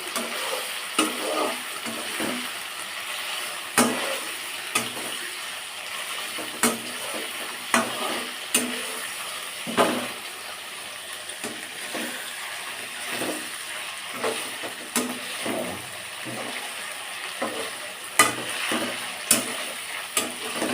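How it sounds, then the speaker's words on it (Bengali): Soybean chunks fry in a wok as a ladle stirs them, giving a constant close sizzle with regular scraping knocks and clinks every second or two, no voices. "দেখো হাতা দিয়ে ভালো করে এটাকে নাড়তে হয়"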